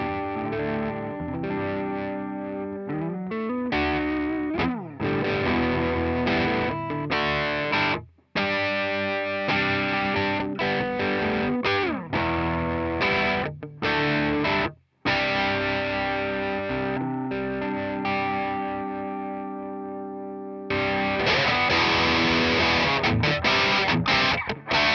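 An electric guitar played through a distorted amplifier, with gain set from the guitar's volume knob: sustained driven chords and riffs, gritty and loud, with a couple of brief dropouts and a brighter, crunchier passage near the end.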